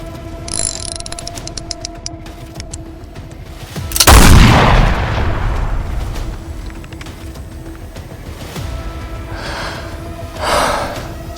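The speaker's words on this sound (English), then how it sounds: "Suddenly, he heard the gunshot and saw a bullet coming to his direction." A single gunshot effect in an audio drama bursts out loudly and decays over a few seconds, with clicking mechanical sounds before it and a dark, rumbling background.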